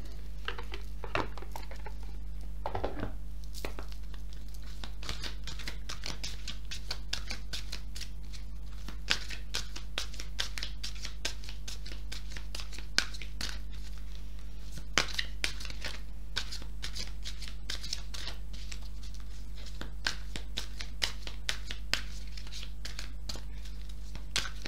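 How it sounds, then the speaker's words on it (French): Oracle cards being handled and shuffled in a tarot reading, a soft continuous run of papery riffles and flicks, close and fairly quiet, alone over a steady low hum. "On va tirer quelques cartes de la sagesse de l'oracle pour voir si on a un complément"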